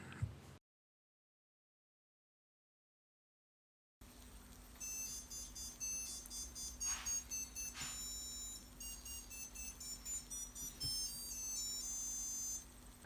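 Repeated high electronic beeps from a vintage 1983 digital watch alarm in an irregular burst pattern, fairly faint, with a steady low hum underneath and no talking.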